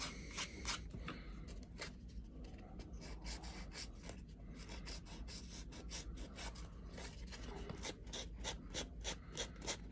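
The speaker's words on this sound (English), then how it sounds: "I'll sand it just a little bit" Sandpaper rubbing along the edge of a tooled leather rifle sling, a steady close rasping scrape with quick repeated strokes that speed up toward the end, no voices.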